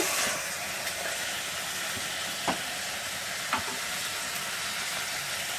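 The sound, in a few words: mutton curry frying while being stirred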